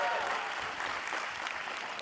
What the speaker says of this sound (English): round of applause for Berserker, everybody, as well